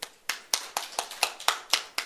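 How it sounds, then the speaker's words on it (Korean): Claps in an early-morning church prayer meeting, crisp and evenly spaced at about four per second, close and distinct with quiet gaps between them. "서로에게 박수를 한번 보냅시다."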